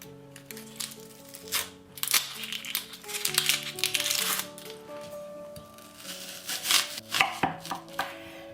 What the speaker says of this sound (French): On coupe 3 oignons rouges et un blanc.